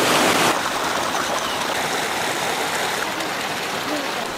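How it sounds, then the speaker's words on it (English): Excess water spilling over from a higher flooded rice terrace to a lower one in the Dazhai terraced fields, a steady, fairly loud rushing and trickling that runs continuously from start to finish with no talk. "the excess water spills over to a lower terrace"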